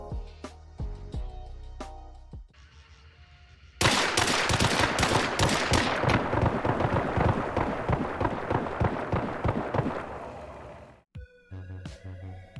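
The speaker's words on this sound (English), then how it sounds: "Why is it that it is quicker to fire 2 single action revolvers than it is to fire 1?" Two single-action revolvers fire in rapid succession in Hunt: Showdown, a fast run of sharp, loud cracks for several seconds, with a few separate shots before and after.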